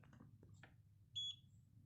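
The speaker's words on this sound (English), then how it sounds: "It's beeping on the camera" A short, high electronic beep sounds twice in quick succession from a Xiaomi Mijia Mi Sphere 360 camera, close and clear, after a few soft taps and rustles.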